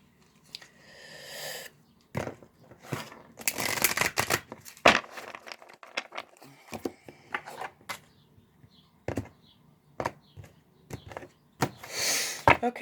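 Cards being shuffled give irregular bursts of crisp riffling and rustling, close and fairly quiet, separated by short pauses.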